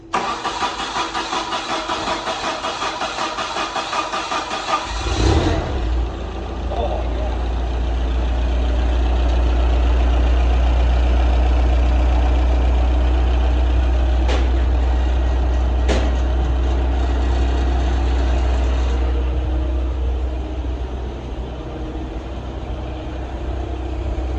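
An old, cheap forklift bought from a former truck school cranks and fires up its engine after a brief starter whir, then settles into a loud, steady, rumbling idle that runs on for almost twenty seconds.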